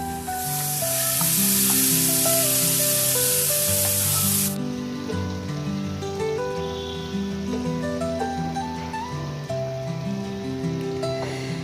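Marinated jackfruit hits a pan of fried potatoes with a loud burst of sizzling that eases after a few seconds into a steady frying hiss, with background music playing throughout.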